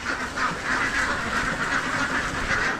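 Ducks on a duck farm quack continuously in a dense, steady chorus, loud and close, with calls overlapping throughout and no talk.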